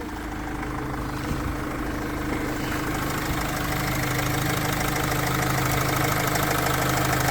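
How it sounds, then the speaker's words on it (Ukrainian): The diesel engine of a 2017 Renault Master van idles steadily throughout, a low rumbling chug with a rhythmic knock, close by and continuous with no voices. "покажемо серце автомобіля, це двигун. Як працює."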